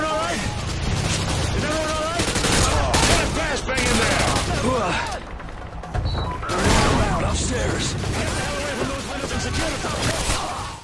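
Gunfire and explosions from the Call of Duty: Modern Warfare 2 campaign, a busy battlefield of dense shots and blasts running continuously and loud throughout, with game music and voices mixed in.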